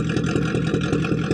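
A 1965 Ford Fairlane 500 with a 289 V8, just cold-started after sitting three years, runs with a loud, close, lumpy rhythmic idle and no voices.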